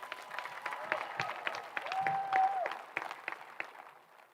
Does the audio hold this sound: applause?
yes